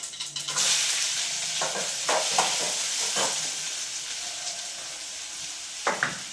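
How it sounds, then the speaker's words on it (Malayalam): Chopped onion, ginger and garlic sizzle and crackle in a hot pan as they are stirred, a steady close frying hiss with a few louder scraping stirs and no talking. "ഇനിയും അരിഞ്ഞു വെച്ചിരിക്കുന്ന സവാളയും ഇഞ്ചിയും വെളുത്തുള്ളിയും കൂടെ ഇട്ട് കൊടുക്കുകയാണ്."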